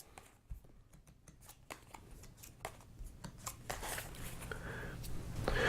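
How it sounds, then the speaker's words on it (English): Zoomaka game cards are shuffled at a table: a quiet run of crisp ticks and flicks that thickens into a louder, continuous riffling toward the end, with no voices. "Shuffle the cards and deal each player 6 cards."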